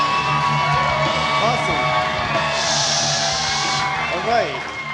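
A comedy-club audience whoops, yells and cheers for the comedian's wife in a loud, steady crowd roar that fills the room and holds throughout.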